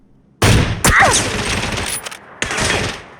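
Gunfire in the PUBG video game: three loud, sharp bursts of shots with ringing tails, the first two close together and the third after a short pause.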